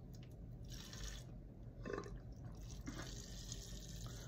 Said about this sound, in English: So I'm squeezing the water in there.